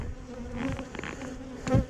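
Bees buzz around a dead hive where robber bees are drawn to leftover resources, a close droning hum with a louder pass near the end, no speech.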